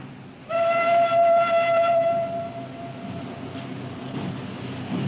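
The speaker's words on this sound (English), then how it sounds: "Faintly from a distance, there comes the sound of a departing train." A departing train sounds its whistle far off beside a night pavement café, a steady chord-like tone that holds for about two seconds and then fades into a low rumbling background.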